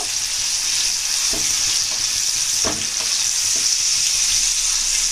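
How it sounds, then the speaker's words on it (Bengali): Whole cabbage leaf pieces fry in oil in a pan for a cabbage malai curry, giving a continuous close, dense sizzle with a few faint knocks as the pieces are turned. "এরকম 2 পিঠ ভালোভাবে লাল লাল করে ভেজে নেবেন"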